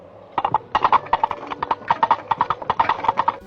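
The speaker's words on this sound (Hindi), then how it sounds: "ये नारियल और घोड़े की चाल का कनेक्शन सबसे पहले 1975 की picture Monty Python and the Holi ग्रेल से ली गई थी" Foley horse hooves made by knocking coconut shells together, a close, crisp clip-clop in a steady trotting rhythm of paired knocks, heard alone without talk.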